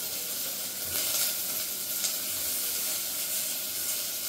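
Potatoes frying in a pan for khichdi, a steady close sizzle and hiss with a few brief stirring flares, no talk.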